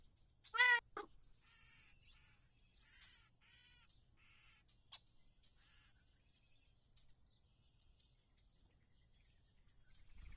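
A cat gives one loud, short meow near the start, followed by faint, scattered chirping calls in an otherwise quiet room.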